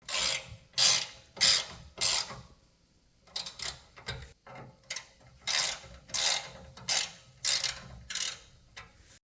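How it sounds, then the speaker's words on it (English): A 4mm Allen key tightens two bolts on the underside of a heavy-duty stubby front bumper on a Ford Ranger, giving repeated rasping ratchet-like turns in short bursts, close and moderately loud. "tighten these 2 down with a 4mm Allen key"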